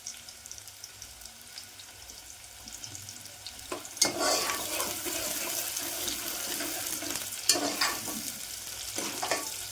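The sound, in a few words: onions frying in hot oil for chicken curry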